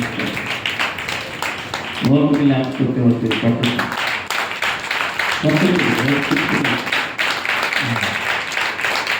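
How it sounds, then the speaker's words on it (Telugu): A congregation claps steadily through a Telugu Christian worship song, with sung and spoken voices rising over the continuous rhythmic hand claps. "చప్పట్లు కొడుతూ ప్రభు నామమున"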